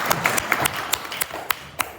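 Scattered clapping from a small audience at an evening talk, a handful of distinct, uneven claps rather than a full ovation, fairly close and sparse.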